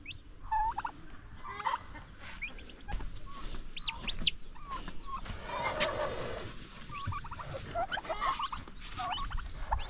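Newly hatched chicks on a farm peep in repeated high, rising chirps, close by and fairly clear, scattered across the clip over soft rustling and low background noise.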